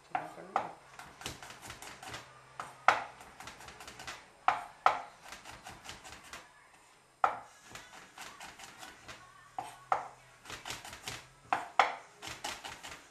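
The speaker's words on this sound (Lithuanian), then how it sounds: "Panaudojau 7 česnako skilteles. Jas irgi susmulkiname." A knife chops seven garlic cloves steadily on a cutting board, quick rhythmic taps in bursts with brief pauses, close and fairly clear.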